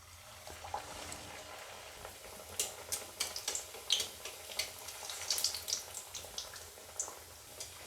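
Crispy patties frying in hot white oil in a wok, a soft steady sizzle with scattered sharp crackles and pops that come and go at close range, with no talking.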